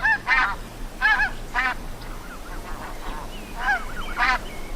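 Geese honk in repeated bursts, about five loud nasal calls spaced through the clip, with fainter calls between them over a steady low background hum.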